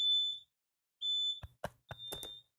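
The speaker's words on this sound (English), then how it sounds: "Who's got a fire alarm?" A fire alarm inside a building gives a few short, shrill beeps separated by pauses, mixed with several sharp knocks and thuds close by.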